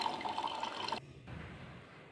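Water runs steadily from a smart home automation watering system, then cuts off abruptly partway through, leaving only a faint low hiss. No talk.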